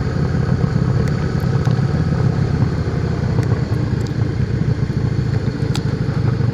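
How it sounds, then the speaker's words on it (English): Motorcycle ride on the Corney Fell road in the Cumbrian fells, a steady loud engine drone with wind rumble running continuously and close throughout, with no talk. "just having a grand old time on the motorcycle"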